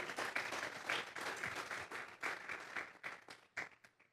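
A church congregation at a worship service claps for God, a full burst of applause that thins into scattered claps and trails off.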